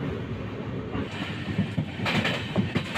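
The Sampark Kranti express rolls through Harihar railway station on platform 3 without stopping, a steady rumble of rail wheels and carriages with clickety-clack from the track, close and continuous with no talk.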